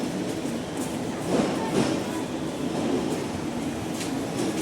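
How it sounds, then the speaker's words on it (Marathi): Virar–Valsad passenger train pulling out of the Virar platform, a steady broadband rumble of wheels and carriages with faint rhythmic clatter, close and continuous throughout. "आपली ट्रेन विरार प्लॅटफॉर्मवरतून रवाना होते"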